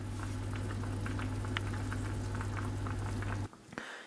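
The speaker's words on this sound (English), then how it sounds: "The vegetables are all soft now. They've been simmering away for quite a while" Vegetables, sweet potato among them, simmer in a pot with a steady bubbling and popping that fills the clip before cutting out sharply near the end.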